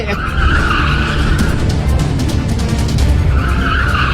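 A car skids hard under heavy braking, its tires scrubbing in a loud, continuous hiss and squeal that holds for several seconds with no voices.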